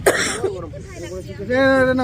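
A single sharp cough at the start from a person who is shivering with cold, followed by a voice speaking and a strained vocal sound.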